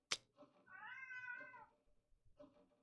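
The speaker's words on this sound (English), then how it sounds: "She is meowing loudly." A cat meows loudly in a long drawn-out wail during a bout of the zoomies, with a sharp thump at the start and a shorter second meow at the end, close and alone without talk.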